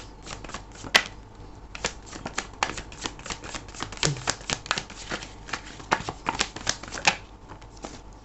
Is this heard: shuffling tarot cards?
yes